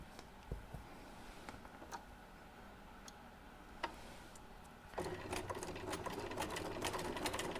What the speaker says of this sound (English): I am stitching just to the right of my line that I drew